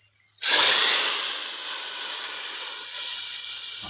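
A loud, sudden sizzle bursts out as hot spiced oil tempering is poured into kadhi curry, then keeps hissing steadily and broadly for several seconds without talk.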